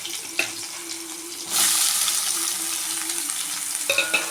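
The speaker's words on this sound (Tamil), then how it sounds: "வெங்காயம் நல்லா வதங்கட்டும்." Medium onions, cut lengthwise, sauté in a pan beside fried cashews. A brief knock comes first, then a loud, even sizzle swells in and holds steady with a few small clinks.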